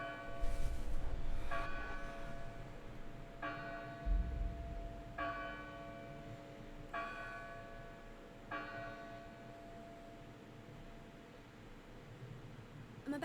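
In the video game Dustborn, a large bell tolls six times at a slow, steady pace, each strike ringing out with a long metallic hum that lingers and gradually fades over a soft background hiss.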